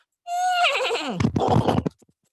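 A single horse neigh used as a sound effect in a spoken retelling of the Hijrah journey, where a tracker rides after the travellers. The whinny is loud and close, starting high and falling, then breaking into shaky, rough snorting pulses before it stops.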